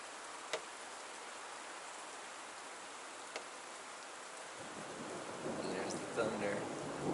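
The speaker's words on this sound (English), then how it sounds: "There's the thunder." Thunder rolls in during a mountain rainstorm: steady rain hiss with a couple of sharp ticks, then a low, deepening rumble swells through the second half, moderately close.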